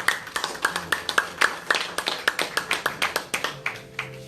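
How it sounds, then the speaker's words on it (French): A church congregation at a Paris worship service claps in quick, uneven rhythm, with close, bright hand claps and faint voices underneath. "Acclamons très fort le Seigneur."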